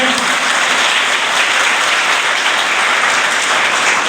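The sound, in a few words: students clapping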